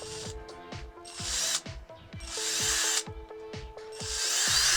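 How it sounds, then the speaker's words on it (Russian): A cheap cordless chainsaw from AliExpress runs with its casing opened and metal gears exposed, giving a steady motor whine with repeated rattling, ratchet-like clicks and short start-stop bursts, near and fairly quiet. "Напрямую работает довольно тихо, плавный ход есть."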